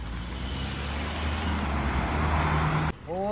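A car comes up a village road with a rising rush of engine and tire noise, then cuts off abruptly as it stops, followed by a brief voice.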